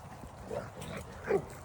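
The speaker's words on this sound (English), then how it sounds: "You hear Hooch, but he's playing with Goose" Dogs grunt and whimper softly as they play, the quiet, muffled noises rising briefly near the end.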